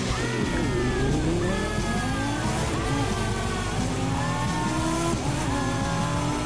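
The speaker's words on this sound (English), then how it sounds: "the sound of this car are unbelievable" A Lamborghini Huracan in the video game The Crew 2 roars continuously, with repeated rising engine sweeps and tire squeal as the car accelerates through gears, loud and close.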